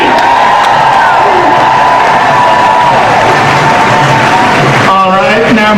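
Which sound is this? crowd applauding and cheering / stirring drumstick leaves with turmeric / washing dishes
crowd applauding and cheering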